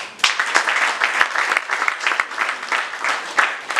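Voters at an election applaud together, the clapping sharp and fairly close, rising and falling in uneven waves with a few louder individual claps standing out.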